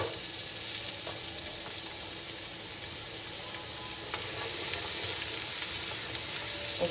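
Onions frying in oil, a continuous even hiss and crackle of sizzling, close and moderately quiet throughout.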